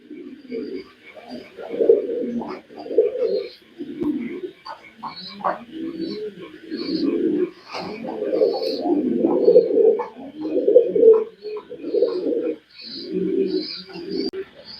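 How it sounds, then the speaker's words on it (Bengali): Pigeons coo repeatedly nearby in soft, rolling, low-pitched calls, one after another, with a few faint chirps in the background. "এই দেখেন কবুতরটা"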